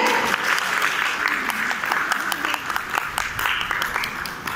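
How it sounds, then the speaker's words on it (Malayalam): Guests at a Christian wedding clap during a lamp-lighting ritual, a dense, steady patter of many hands from a seated crowd, with some close individual claps standing out. "നന്നായിട്ട് കൈയടിച്ചേ."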